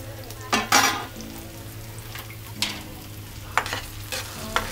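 Onions softening in a pan with tomatoes added for a gongura dried prawn curry, a low steady sizzle broken by a few sharp utensil scrapes and clinks.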